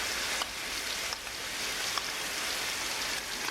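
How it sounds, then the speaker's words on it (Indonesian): Ground red chilies sauté in oil with a steady, even sizzle, a constant frying hiss broken by faint pops, heard close with no talking. "Yang pertama kita tumis dulu cabai merahnya."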